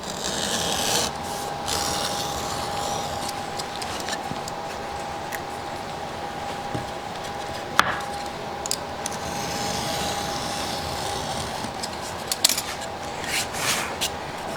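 A tool scrapes and rasps against wood to trim excess spline off a glued splined miter joint, steady close rubbing strokes with a few sharp clicks near the end.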